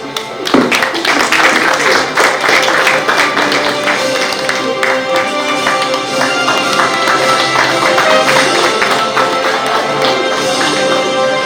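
An audience at the Punjab Leadership Awards 2024 ceremony claps in a dense, sustained round of applause, loud and close, building at the start and holding steady to the end.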